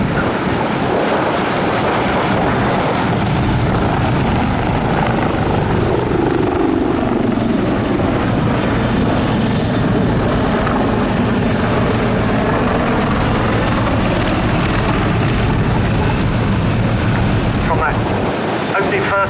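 Royal Navy AgustaWestland Wildcat HMA.2 helicopters flying a display at Cosford air show produce a loud, continuous rotor and turbine roar whose pitch sweeps as they pass and manoeuvre, with a commentator's voice over the top.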